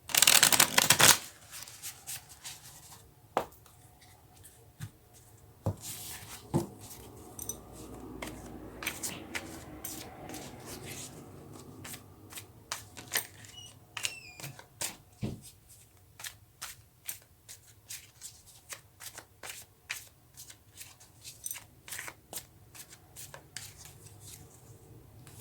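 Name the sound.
shuffling tarot cards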